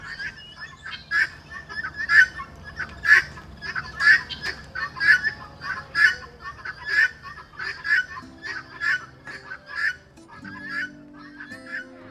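Farm chickens on a mountainside in northern Thailand call in a steady series of loud, honking squawks about once a second, close by, with no talk over them.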